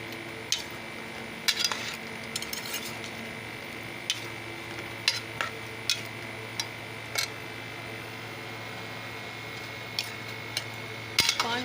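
Tomato paste stirred into a frying chili and onion paste for chicken karahi, a low steady sizzle under sharp, irregular clinks of a spoon scraping the pot.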